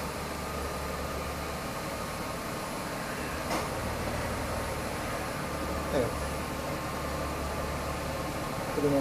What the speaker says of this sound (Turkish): Klimamız çalışmaya başladı.